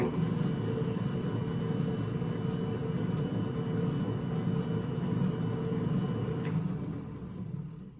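A Hobart mixer under repair for a fault runs in second gear with a steady, even mechanical drone and hum that stays constant, then eases off slightly at the end, heard alone.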